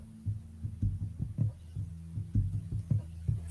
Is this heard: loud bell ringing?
no